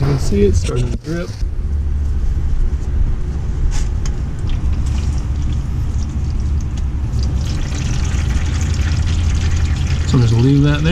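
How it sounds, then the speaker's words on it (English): Transmission fluid runs from the loosened pan of a 2nd-gen Dodge Ram with a 46RE transmission into a catch pan, a steady close splashing stream, with someone speaking briefly at the start and end. "it's starting to drip"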